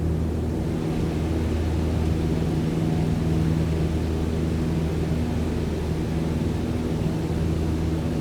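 Light aircraft engine held at full power during a go-around in a flight simulator, a loud, constant droning hum with a steady tone that carries unchanged throughout.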